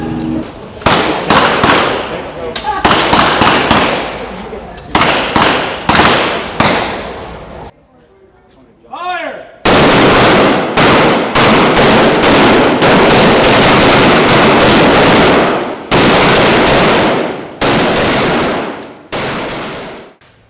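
Shooters fire guns at a firing range, producing rapid, loud shots in uneven clusters. A brief lull comes near the middle, followed by a long, dense run of overlapping reports.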